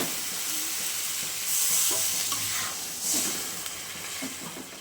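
Fish curry of tangra fish simmering in a pan as a little water goes in, giving a steady hiss and sizzle with brief louder bursts of steam, close and continuous with no talking.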